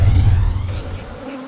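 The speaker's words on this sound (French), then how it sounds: "Élevage des abeilles pour la production de miel et autres dérivés" Bees at a honey-producing apiary in Kinzambi, Congo, making a loud, close, continuous buzz that fades somewhat toward the end, with no voices.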